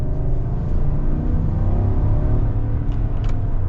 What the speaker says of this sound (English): we'll get a better acceleration coming up here